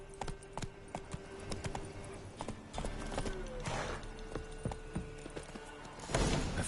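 Roach, the horse in Witcher 3, gallops with steady hooves clip-clopping close by, and the pace picks up near the end with no talk.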